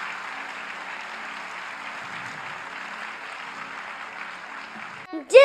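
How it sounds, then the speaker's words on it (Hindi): An audience at a Bhagwat Katha religious gathering claps steadily for several seconds, a muffled, even wash of applause, ending with a sudden louder sound at the close. "थोड़ी तालियां तो बजाइए, जोर से बजाइए"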